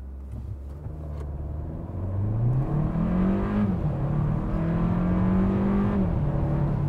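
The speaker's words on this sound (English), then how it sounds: "I want you to try a brake boost" A 2022 Hyundai Kona N Line AWD revs up and launches from a brake boost with its tires in snow, the engine note climbing through rising pitches and shifting as it pulls away, loud and close from inside the cabin.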